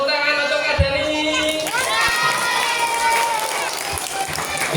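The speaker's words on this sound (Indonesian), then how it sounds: "jangan lupa tepuk tangan untuk Kak Dani." Children at a Quran school (TPA) gathering clap and cheer together in a noisy crowd, with excited young voices shouting over the applause throughout.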